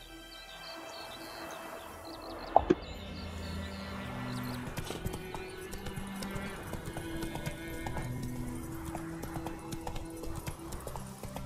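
Roach, Geralt's horse in The Witcher 3, gallops with rapid clip-clop hoofbeats and a whinny near the start, alongside faint bird chirps and game ambience.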